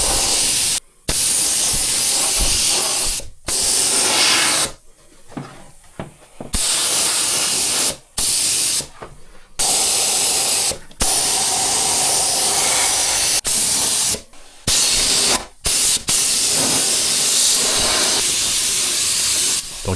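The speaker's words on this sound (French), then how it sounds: "Au pistolet, là je pulvérise un produit bicomposant" A spray gun hisses loudly and close in long continuous passes, laying down a two-component coating in the engine bay of a Suzuki Cappuccino, with short pauses between bursts.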